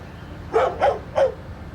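A pet dog indoors barking three times in quick succession, sharp, moderately loud and close, with short gaps between barks and no talking over them.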